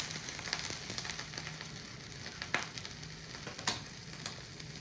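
A quesadilla sizzles steadily in a frying pan, a close, crackling hiss with occasional sharper pops and spatula scrapes, no voices.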